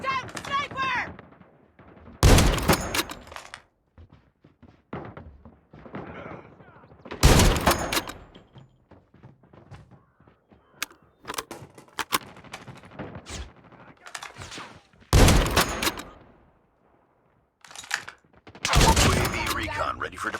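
Sniper rifles fire in a video game match pitting the DLQ33 against the ZRG 20mm, loud isolated booming shots spaced several seconds apart, with game voice callouts in between.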